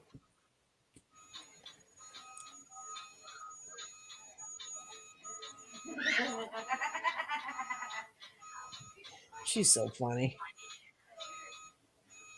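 A child's toy truck that beeps and turns over gives off repeated electronic beeps and tones close by, with louder bursts midway and near the end, mixed with people chatting and laughing in a quiet room.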